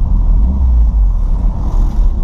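Old boxy VW Voyage car engine rumbling steadily with a deep low idle-to-rev drone, close and loud throughout, no voices.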